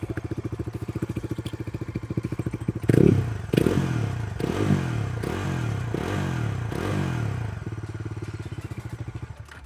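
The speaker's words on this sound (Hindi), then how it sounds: "This is the double barrel exhaust." A 2026 Bajaj Dominar 400 with a 350cc engine and double-barrel exhaust idles with a steady thumping beat, then is revved hard several times in rhythmic bursts before settling back to idle, loud and close.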